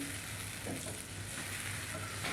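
Boiled potatoes fry with masala over a high flame, a dense steady sizzle with soft stirring scrapes, close and unbroken.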